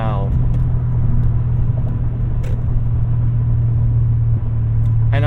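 A 2001 BMW E39 M5 driving fast, heard as a steady, loud low engine and road drone inside the cabin, with a voice briefly at the start and end.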